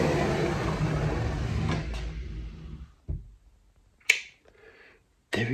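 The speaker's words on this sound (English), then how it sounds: "I just finished the pantry door." A newly finished wooden pantry door in a Burgundy country house is opened and closed: after about three seconds of steady broadband noise, three sharp, close knocks and clicks ring out, separated by near silence.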